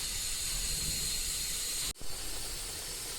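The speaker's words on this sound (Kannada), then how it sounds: "ಬ್ಯಾಳಿ ಕುದಿಸಕತ್ತೀವಿ" Dal (lentils) boiling in a pot on a stove in a vehicle kitchen, a steady loud hiss of steam and bubbling throughout, with one brief dip in the middle.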